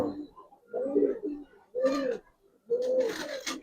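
Young Giribaz pigeons cooing close by in several soft, throaty, warbling phrases with short gaps between them, fairly quiet and without talking.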